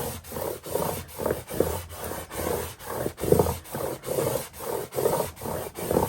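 Scraping down a Cricut craft cut produces a rhythmic series of short rubbing strokes, roughly two per second, close and steady with no talking.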